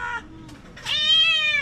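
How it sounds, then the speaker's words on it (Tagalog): A house cat gives two close meows, a short one followed by a longer, rising one, with no talking over them. "Pusa."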